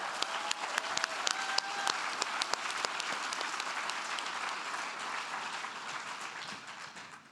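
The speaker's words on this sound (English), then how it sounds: "That was a nice round of applause for all of our winners" Applause at an evening awards gala for marketing award winners, a broad steady wash of many hands clapping with sharp individual claps on top, fairly distant and slowly tapering toward the end.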